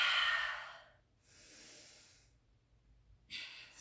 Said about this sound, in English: exhale, release through the mouth